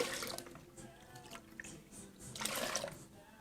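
Ocean Spray cranberry juice pours and splashes into a container in short gushes, quiet and close, with a louder glugging burst near the end.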